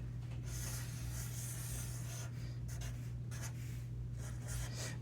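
Marker or chalk scratching and rubbing across a board as a diagram is drawn, steady close strokes over a constant low electrical hum, with no voices.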